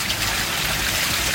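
Famous spring water flowing down from Okawa waterfall on Yakushima island, a steady, close, broadband rush of running water with no pauses.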